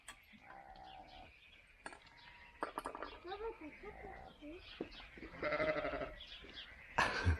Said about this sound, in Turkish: Koyunlar. Koyunlar.